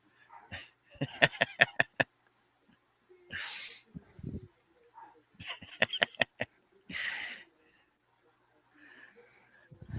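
Dogs let out short clustered barks and soft whimpers indoors, in several close bursts with quiet gaps between them.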